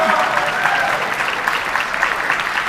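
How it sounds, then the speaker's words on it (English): Sustained applause from a high school choir concert audience honoring the singers' parents, dense steady clapping filling the hall with a faint crowd murmur underneath. "you can clap for mom and dad"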